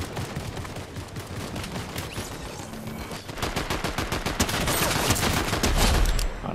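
Rapid bursts of Fortnite gunfire crackle almost continuously, shots overlapping in fast volleys that grow louder and denser toward the end, with no talking.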